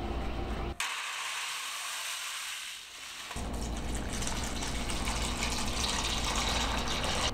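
Water gushes steadily and loudly into an aluminum container of corn kernels being soaked for malting, a continuous rushing fill that briefly changes tone partway through.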